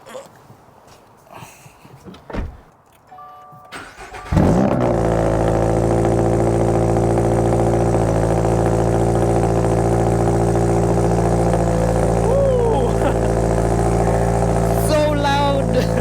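A Toyota GR86 fitted with an AWE Touring exhaust cold-starts after some quiet handling noises: a brief crank, then a loud, steady high idle that drones on close by. Faint talk is heard before the start.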